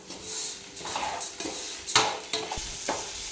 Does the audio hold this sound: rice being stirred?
yes